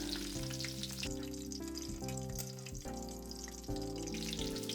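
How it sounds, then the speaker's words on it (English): Oil sizzles quietly and steadily as cabbage cutlets deep-fry, a soft crackling hiss heard beneath tonal background music. "The purpose of deep frying double is to make the outside crispy."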